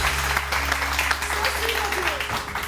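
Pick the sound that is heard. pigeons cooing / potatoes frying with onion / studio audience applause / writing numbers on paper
studio audience applause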